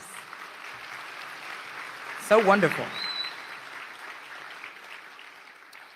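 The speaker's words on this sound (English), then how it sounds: "give them another round of applause" An audience at the Houston mayor's State of the City address claps in a steady, moderately distant wash, while a voice briefly speaks over it in the middle.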